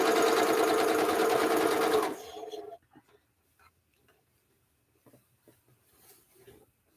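A sewing machine stitching quilt blocks runs in a steady, fast, close whir for about two seconds, then stops, leaving faint handling noises.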